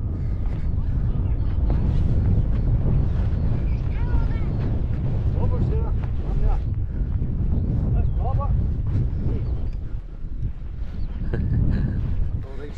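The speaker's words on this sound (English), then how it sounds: "It's just a bit windy, I'm not too sure yet." Strong, steady wind buffets the microphone on an exposed hill summit in the Ochil Hills of Scotland, a continuous loud low roar with gusts, while voices talk faintly underneath.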